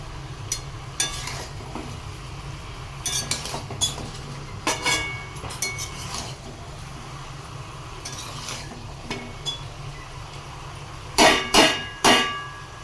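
Chicken curry being stirred in a pan, a spatula scraping and clattering in scattered strokes over a constant frying hiss, with a burst of louder scrapes near the end.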